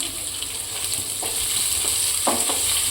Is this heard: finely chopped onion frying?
yes